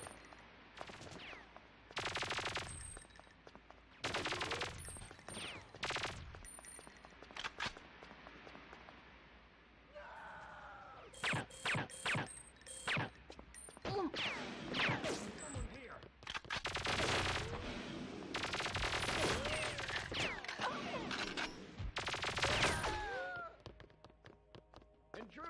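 Bursts of gunfire, including rapid automatic volleys and single shots, ring out over shouted voices and action noise, loud and close throughout.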